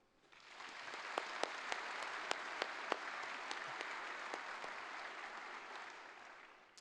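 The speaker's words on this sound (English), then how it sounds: "Can I ask, please, for a round of applause for the official party" A crowd at a university science faculty graduation ceremony applauds steadily for several seconds, a dense wash of clapping with a few sharper, louder claps standing out, fading toward the end.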